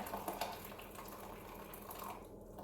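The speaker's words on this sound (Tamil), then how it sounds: "நான் 250 ml தண்ணி விட போகிறேன்" 250 ml of hot water is poured for cheesecake jelly, giving a faint, steady trickling splash that keeps going throughout.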